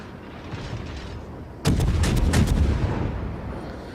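A US cruiser fires a salvo of artillery shells in World of Warships: after a quiet, rumbling lull, a loud burst of several rapid, sharp booms erupts, then fades into a lingering low rumble.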